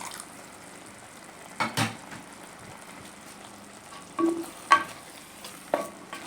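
Ricotta whey poured into simmering lasagna sauce in a pot and stirred: a low, quiet simmer with a few soft spoon scrapes and clinks against the pot, no talking.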